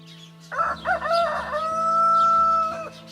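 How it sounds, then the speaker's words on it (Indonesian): A rooster crows once, a loud, close cock-a-doodle-doo with a long drawn-out final note over a low background hum. "selalu membangunkan penduduk desa setiap pagi dengan kokoknya yang lantang"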